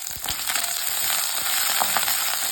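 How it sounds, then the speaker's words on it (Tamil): Onions, chilli and curry leaves hit hot oil with popped mustard seeds for a South Indian lunch-box dish, giving a steady close crackling sizzle with scattered sharp pops and no talking. "கடுகு பொரிஞ்சிருச்சு, வெங்காயம் போட்டுக்கலாம். கூடவே மிளகாய் கருவேப்பிலையும் சேர்த்துக்கலாம்."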